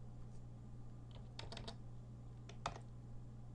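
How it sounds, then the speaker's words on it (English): Light key presses on a computer keyboard, including the tab key, during budgeting work in GnuCash: a few soft clicks in two small clusters, faint against a steady low hum. "now I hit tab again"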